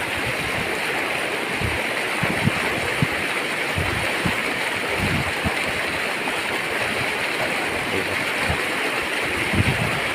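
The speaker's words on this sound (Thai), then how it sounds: "น้ำไหลตลอดเลยนะครับผม" Steady rushing water flows continuously, a broad, dense wash of stream noise with occasional low gurgles and splashes underneath.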